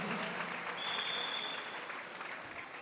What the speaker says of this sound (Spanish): Denle una ofrenda de palmas a Jesús